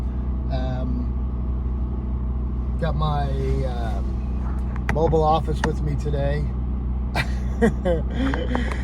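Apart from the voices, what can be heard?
portable generator running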